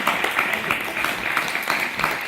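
Scattered applause from a small audience at a citizens' meeting in Conches-en-Ouche, France, honouring a woman who learned French in a few weeks; steady, moderately loud clapping with irregular sharp claps throughout.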